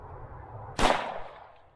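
A shotgun fires a single exotic spaghetti squash shell, one sharp loud blast that decays quickly over a low background hum.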